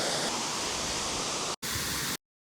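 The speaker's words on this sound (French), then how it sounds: "comment on passe par-dessus l'eau qui coule de la cascade de la Vérine" Dense roaring rush of the Vérine waterfall in the Cézallier, Auvergne, loud and close, cut by a brief dropout before continuing and then stopping abruptly.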